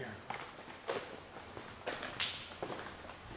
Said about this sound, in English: Did you hear the footsteps and everything again?